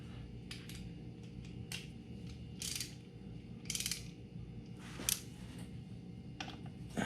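A wrench ratchets a bolt on a 2018 Harley-Davidson Fat Bob during service, giving soft repeated clicking and mechanical turning sounds with a few sharper metallic clicks, close by and without talking.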